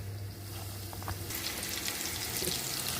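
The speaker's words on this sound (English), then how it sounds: "Fry away, fry away, fry away, fry away." Batter-coated chicken pieces for Springfield-style cashew chicken fry in hot oil, a steady hissing sizzle that swells louder and brighter about halfway through as the batch settles, heard close with no talk.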